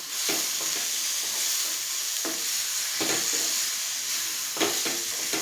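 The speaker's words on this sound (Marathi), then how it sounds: "तर इकडे मी लसूण घेतला आहे 2 ते 3 पाकळ्या। तर हे सुद्धा आपल्याला अगदी हलकं भाजून घ्यायचं आहे" Two or three garlic cloves roast lightly in a pan with very little oil, giving a constant bright sizzling hiss broken by occasional crackles and spatula taps.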